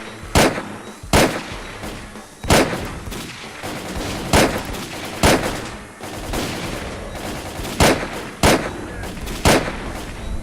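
Video game gunfire from a weapon, loud sharp shots fired singly and in short bursts at irregular intervals, over a continuous game background.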